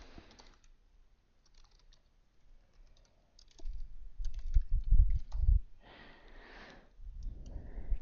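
Soft clicks of a computer keyboard as a short name is typed, scattered light keystrokes up close, with breathing and a sniff or sigh.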